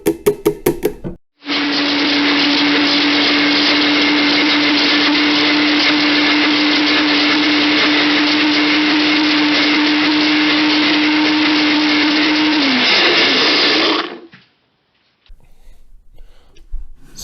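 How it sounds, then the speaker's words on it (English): A blender whirs loudly and steadily for about twelve seconds as it mixes eggs with beet powder for pasta dough. The pitch sags just before it stops, and brief knocks come before and after. "we're just gonna add the beet powder into it and we're gonna blend it."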